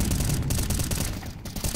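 Rapid gunfire from Counter-Strike 2 competitive Premier gameplay, a dense loud fusillade of overlapping shots running continuously with no pauses.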